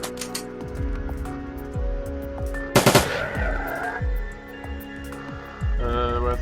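Gunfire rattles in a Shadowrun Dragonfall battle: a quick burst of shots stands out amid rhythmic thumping game music and combat effects.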